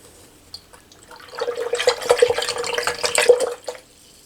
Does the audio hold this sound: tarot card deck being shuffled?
no